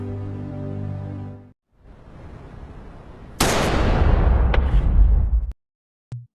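A gunshot-like blast from a Squid Game episode hits hard and loud after a musical passage and brief hush, followed by a long rumbling decay and a short sharp pop near the end.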